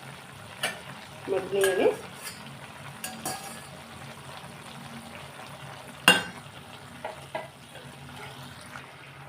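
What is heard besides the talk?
prawns added to ridge gourd curry frying in a pan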